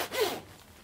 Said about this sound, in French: Fermeture éclair, nickel.